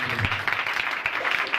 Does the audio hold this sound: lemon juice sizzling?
no